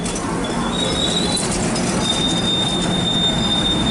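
A train rolls past loudly and continuously, its wheels letting out a high, sustained squeal over the heavy rumble of the cars.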